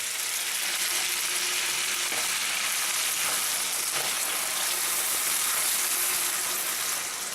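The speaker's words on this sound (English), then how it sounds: "And hear that sizzle." Frozen peas hit a hot pan of rendered bacon, giving a steady, loud, close-up sizzle and crackle that runs without a break, with small scraping ticks from stirring now and then.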